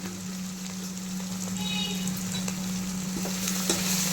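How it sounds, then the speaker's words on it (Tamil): Tomatoes sautéing in oil with a handful of mint and coriander for ghee rice, a constant close sizzle with a low steady hum underneath and faint occasional stirring ticks, no speech. "கீ ரைஸுக்கு தக்காளி இப்படி தான் போடணும் ரொம்ப வதங்கக்கூடாது"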